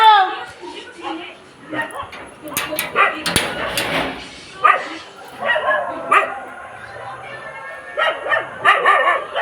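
Several dogs bark and yip repeatedly at close range, overlapping with a person talking over them.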